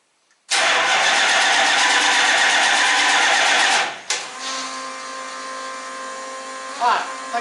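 A car engine fitted with a newly installed Holley Sniper EFI system cranks loudly for about three and a half seconds, then shifts to a steadier running drone; a voice is heard briefly near the end.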